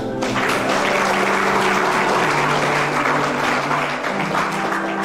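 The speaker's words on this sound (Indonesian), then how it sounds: "Tepuk tangan buat Zahra" Sustained audience applause at an Indonesian talk, a dense steady wash of clapping filling the whole stretch, loud and close with no voices over it.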